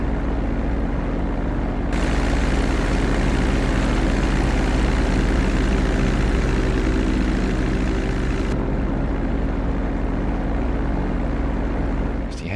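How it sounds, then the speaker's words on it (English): An airplane taxiing in GTA V, a steady loud engine and propeller drone that runs unbroken for about twelve seconds with no speech over it. "smooth and easy taxiing"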